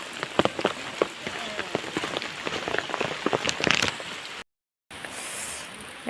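Heavy rain pours steadily onto surfaces in a hillside village during tomato field work, a dense continuous patter of drops with a brief dropout near the end and no talking.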